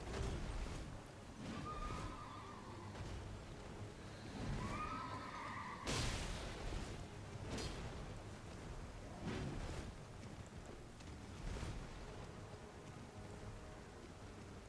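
A horse in a video game neighs twice, whinnying calls rising and falling over a busy game soundscape with thuds and a sharp impact partway through.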